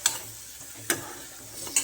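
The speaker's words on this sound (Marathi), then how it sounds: "हे छान तेलामध्ये परतून घ्यायचा मसाला बरं का." Masala sautéing in oil, a quiet steady sizzle punctuated by three sharp ladle scrapes against the pan.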